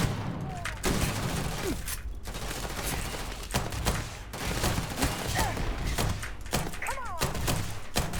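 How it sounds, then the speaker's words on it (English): Gunfire in the video game Starfield: repeated heavy shots and thudding impacts in clustered bursts with short pauses, loud and close, over a constant rumbling background. "I shouldn't be shooting at the window"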